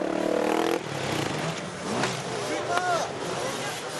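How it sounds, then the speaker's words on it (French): Racing motorcycle at the Enduropale 2016 beach enduro being restarted: a loud engine burst cuts off early, followed by sputtering revs and mechanical noise under a commentator's voice. "Guillaume Davion essaye de redémarrer la moto aussi"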